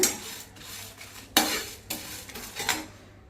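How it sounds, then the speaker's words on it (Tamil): Curry leaves roast in a pan over low heat for a Tamil potato fry, with a spatula scraping and clinking against the pan in several close, uneven strokes over a faint steady sizzle. No one speaks. "இதில் ஒரு கொத்து கருவேப்பிலை இப்போ இது நல்லா வறுக்கணுங்க"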